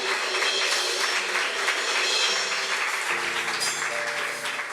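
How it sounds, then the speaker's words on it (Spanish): A church congregation applauds throughout during a worship service, a steady broadband clapping wash with faint tonal music or organ notes underneath, no voices. "Dale ese aplauso a Él."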